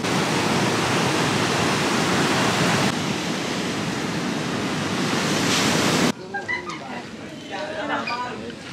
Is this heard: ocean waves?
yes